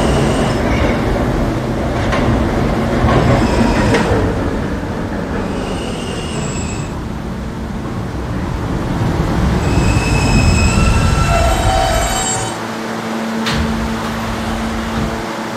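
An R160A subway train in the Roblox game PTA rumbling steadily along the tracks with metallic squeals and clatter, loud and continuous throughout.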